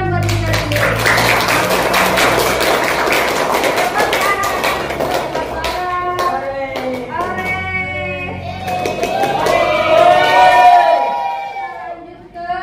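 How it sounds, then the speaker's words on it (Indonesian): Students clapping in a classroom, a dense burst of many hands for the first half that thins out as voices and chatter take over. "Berikan tepuk tangan buat diri kalian sendiri."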